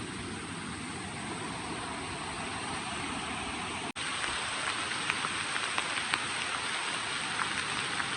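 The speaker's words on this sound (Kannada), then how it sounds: "ಒಳ್ಳೆ ಮಳೆ." Heavy rain pours steadily on Kumara Parvatha during a trek, a dense close hiss of drops with a few sharper taps on surfaces, and no voices.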